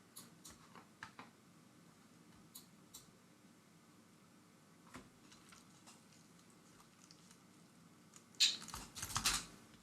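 Quiet computer keyboard typing in scattered bursts of clicks, sparse at first, then a louder, faster cluster of keystrokes near the end, with no talking.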